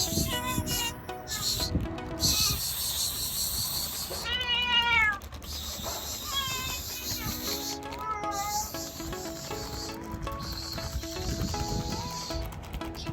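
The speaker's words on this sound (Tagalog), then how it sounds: "So ayan, magpapakain muna tayo ng mga pusa." Several hungry pet cats meow repeatedly at feeding time, close and insistent with rising, drawn-out calls, while a person talks intermittently nearby.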